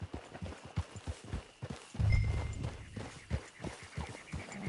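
Horse hooves clip-clop at a quick steady pace on a dirt track into a camp in a PS4 video game, a rhythmic run of close thuds with a heavier rumble partway through.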